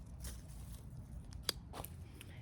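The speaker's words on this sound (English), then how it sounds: "You can see that I am using my Felco 2 pruners." Felco 2 pruners snip spent flowers in a garden, giving a few faint, quick clicks and one sharper cut, close by amid quiet rustling of stems.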